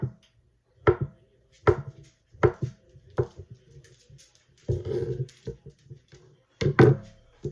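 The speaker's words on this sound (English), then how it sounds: "I'm just gonna chop it." A knife chops fresh food for a keto chicken tortilla soup in about eight sharp, close, irregular strikes separated by brief pauses, with no voices.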